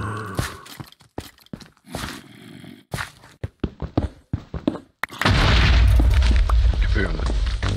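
A loud, rumbling boom in the Minecraft SevTech Ages modpack erupts after choppy talk and game sounds, then rolls on as a sustained heavy roar to the end.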